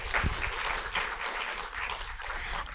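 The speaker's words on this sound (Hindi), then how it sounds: "तो सभी उनकी सम्मान में तालियां बजाते रहे।" Audience applause at an honoring ceremony during a Ganesh festival celebration in Bhopal, a steady wash of many hands clapping, full and continuous for the whole stretch.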